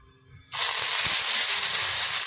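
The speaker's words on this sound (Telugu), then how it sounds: "కొంచెం ఆయిల్ వేసేసుకొని తర్వాత చింత చిగురు వేసేస్తున్నాను అండి." Tender tamarind leaves drop into hot oil and set off a sudden loud, steady sizzling hiss that carries on after a quiet start, close and alone.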